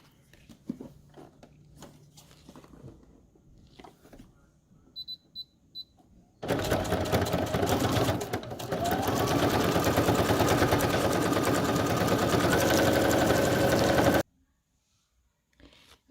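A sewing machine runs steadily for about eight seconds, stitching the inside of a handmade journal tag, a loud continuous mechanical whir that stops abruptly, preceded by quieter handling noises and faint clicks.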